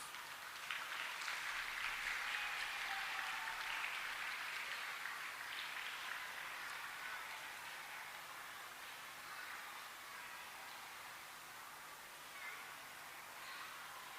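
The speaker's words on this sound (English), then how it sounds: "Please give them a loud round of applause" Pupils and parents at a primary school celebration applaud top-scoring students, a broad, hissing patter of many hands heard from a distance that holds steady and then slowly thins toward the end.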